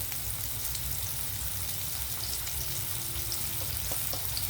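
Onions frying in a pan for potato kurma give a steady, dense sizzle and crackle from start to finish, close and even with no talking.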